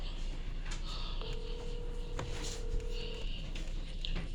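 A cell phone call going out after dialing, with a steady electronic ringback tone held for about two seconds beneath faint background noise and brief beeps, at modest level.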